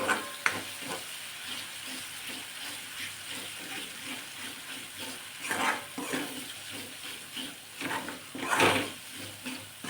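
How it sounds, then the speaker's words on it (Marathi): Onion and coconut paste with raw ginger and garlic fries in oil for a spicy crab curry, giving a continuous close sizzle with occasional scraping stirs that swell louder now and then. "आता एक दोन तीन मिनटं आपण या तेलामध्ये परतून घेऊ"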